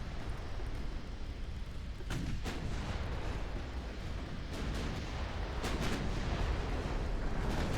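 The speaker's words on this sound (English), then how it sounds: "Load armor piercing and shoot it right into their broadside" Heavy battleship guns fire armor-piercing shells in the naval warfare game Ultimate Admiral Dreadnoughts: several loud booming salvos at irregular intervals over a constant rumbling battle din.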